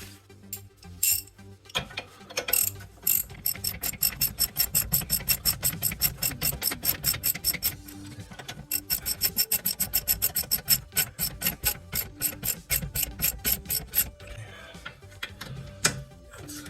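A ratchet wrench tightens the brake bracket bolts on a BMW E36 during rear brake work, giving long runs of fast, even clicking that pause, restart and stop, close up with no talk.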